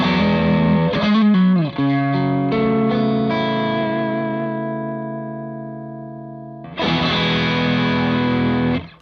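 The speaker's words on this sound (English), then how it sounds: "And it sounds like this with the iron drive on." Electric guitar driven through an Iron Drive overdrive pedal, a gritty distorted chord strummed and left ringing as it slowly fades, followed by a fresh, louder strum near the end, with no talking.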